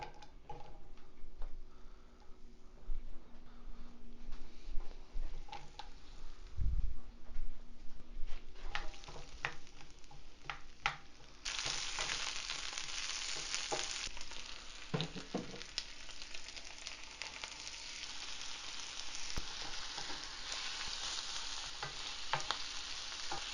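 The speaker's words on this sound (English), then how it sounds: "Now I will cook the zucchini." Zucchini cooking in a pan alongside Calabrian-style shrimp: a continuous hiss of frying that swells louder partway through, dotted with small ticking clicks and a low thump, no voices.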